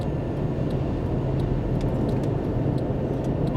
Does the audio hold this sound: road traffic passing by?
yes